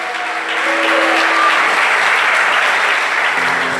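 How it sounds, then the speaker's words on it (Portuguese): Church congregation applauding steadily for the Holy Spirit during a Pentecostal sermon, a dense, even wash of clapping from many hands that holds for several seconds with no talking over it. "Dá um glória a Deus aí, aplauda o Espírito Santo que está aqui neste lugar"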